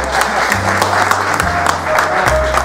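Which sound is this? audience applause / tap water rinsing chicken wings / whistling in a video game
audience applause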